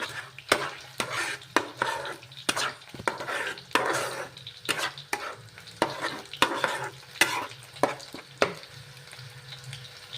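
A utensil stirs salted food in a frying pan, making rhythmic scraping strokes about once a second over a low sizzle, close and clear, with no voices.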